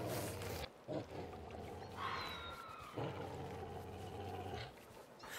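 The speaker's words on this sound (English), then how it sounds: "Something is stinking, growling at me hardcore, and I do not know where it is." A wolf growls in the hunting game theHunter: Call of the Wild, low rumbling snarls coming in several bursts over a few seconds at moderate distance, with faint game ambience and no speech.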